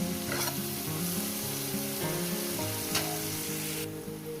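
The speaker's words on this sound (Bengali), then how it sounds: "ক্যাপসিকামটা দিয়ে আরও তার সঙ্গে ভাজবো" Capsicum frying in a pan, a bright continuous sizzle with stirring strokes over a steady background hum, close and even in level, with no speech.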